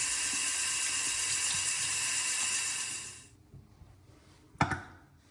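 A tap runs steadily to rinse a face after a shave, a hissing splash that stops about two-thirds through, followed by quiet and a single sharp clunk.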